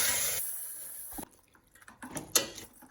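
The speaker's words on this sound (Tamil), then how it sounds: "இப்போ நம்ம வேக வச்ச மட்டன் அந்த தண்ணியோடு சேர்த்துக்கோங்க." Cooked mutton poured into a curry pot together with its cooking water, a wet splashing pour that fades out, followed by a few soft sloshes and squishes, no voices.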